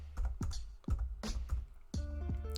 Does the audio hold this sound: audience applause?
no